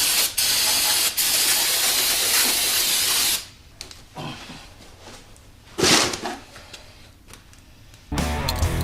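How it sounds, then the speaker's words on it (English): Loud bursts of aerosol cleaner sprayed onto engine crankshaft journals during a junkyard engine rebuild, a long hissing blast followed by shorter, quieter sprays and a final strong hiss, close and up front. "I'm going to spray down my crankshaft. All the journals, making sure they're nice and clean."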